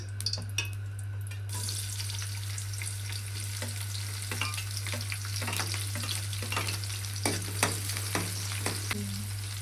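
Red chilies, green chilies and onion frying in very hot oil, a loud steady sizzle up close with scattered pops and the occasional clink of a stirring spoon, no one speaking.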